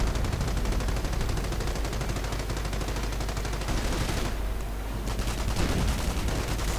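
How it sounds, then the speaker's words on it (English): Sustained machine gun fire from an emplacement in a war strategy game, rapid dense bursts of gunfire continuing without pause and loud throughout, with battle noise underneath and no talking. "the stormtroopers are being heavily suppressed by the machine gun emplacement"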